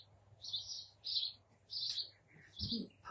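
Small garden birds chirp in short bright bursts, four or five repeated phrases spaced about half a second apart, fairly close and clear over a quiet background with no talking.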